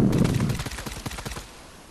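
Gunfire in the Fortnite video game: a rapid string of sharp shots rattles out close and loud, then thins into scattered, fading cracks.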